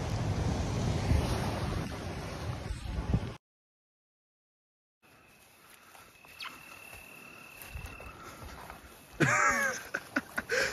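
Surf rolling onto a beach in Funchal, heard as a broad steady wash with wind buffeting the microphone, cut by a brief silence before the softer surf resumes.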